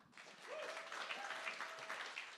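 A live music crowd at The Bedford applauds a performer, a steady wash of clapping hands lasting a couple of seconds with a faint tonal note running through the middle.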